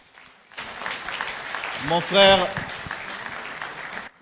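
Audience applause for models showing the new Cameroon Indomitable Lions football jerseys at a presentation ceremony, a steady broadband patter running beneath someone speaking in French, swelling briefly midway.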